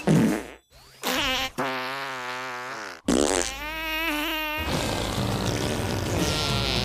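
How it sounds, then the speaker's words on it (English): Cartoonish fart sound effects, a series of buzzy, wavering blasts of varied length separated by brief gaps, loud and close with no talk over them. "But add fart sounds."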